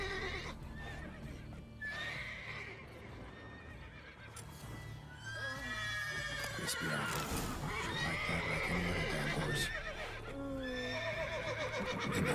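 A horse in the video game The Witcher 3: Blood and Wine neighs and whinnies several times amid clip-clopping hooves and game ambience, while someone talks throughout.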